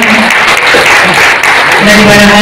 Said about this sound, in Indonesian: Mohon tepuk tangan yang meriah